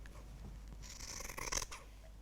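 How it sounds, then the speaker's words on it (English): Scissors cut through a single layer of fabric along a chalk line, a short close crisp snipping and rasping burst in a quiet room, no talking. "I can cut along my previously marked chalk line"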